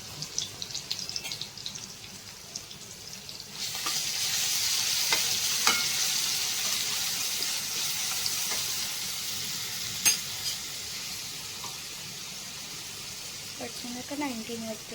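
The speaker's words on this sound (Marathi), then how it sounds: "मस्त तेल टाकलं आणि जिरेची फोडणी दिली आणि त्यानंतर ठेचल्यालं लसूण आणि" Cumin, crushed garlic and coriander leaves sizzle in hot oil as a tempering for a yelavani amti (dal soup), a steady close hiss swelling after a few seconds, with occasional stirring clinks and sharp pops.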